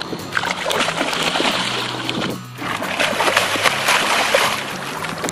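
A Goliath grouper thrashes at the surface beside a bait can, sending out a burst of close, broadband splashing and sloshing water that drops off briefly midway, then churns on.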